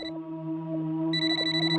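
A soft electronic ringtone plays a repeating tonal pattern, quiet and steady, with no voices.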